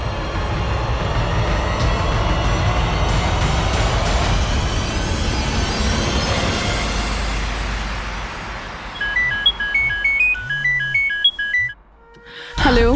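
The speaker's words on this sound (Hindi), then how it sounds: "वो पूजा का फोन होगा" A mobile phone ringtone chirping in a short repeating melodic pattern, heard after a long stretch of loud rumbling train-like noise fades, then briefly cutting off.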